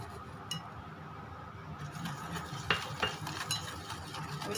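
A spoon clinks and scrapes in a bowl as egg and cumin are mixed for biscuit dough. The stirring is faint and irregular, with a few brighter taps against the bowl.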